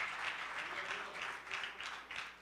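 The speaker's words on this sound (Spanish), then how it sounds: "Démosle un fuerte aplauso a nuestro Dios en esta mañana" A church congregation applauds together, a sustained wash of many hands clapping in a large room, moderately distant and steady, swelling slightly in waves throughout.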